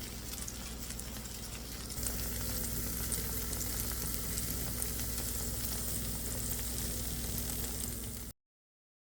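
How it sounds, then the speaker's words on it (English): Crescent roll-ups sizzling on a baking sheet in a 375-degree oven, a steady crackling hiss with a low hum underneath that stays even throughout, then cuts off abruptly. "Doesn't that sizzle just make them sound as delicious as they are?"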